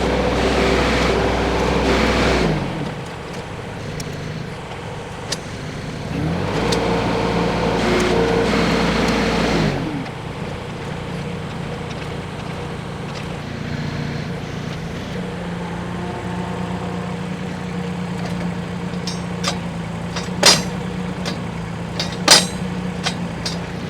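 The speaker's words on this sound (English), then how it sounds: "Now I'm putting down pressure on it, and the weight of my Kubota tractor." A Kubota tractor engine idles steadily while its weight pushes a post down into powder-dry ground, with louder revving bursts early on and occasional sharp knocks near the end.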